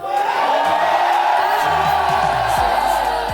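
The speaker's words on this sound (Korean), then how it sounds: "한번 함성 한번 질러볼까?" A fan-concert audience at a fan-con lets out a loud, sustained shout, a continuous roar of many voices that stays strong throughout, with faint low musical tones creeping in toward the end.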